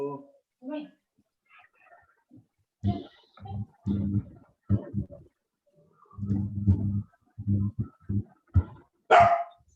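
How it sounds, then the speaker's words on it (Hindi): A pet dog barks repeatedly in a series of short, close, irregular bursts in an otherwise quiet room. "मेरा कुत्ता बहुत बोलता है।"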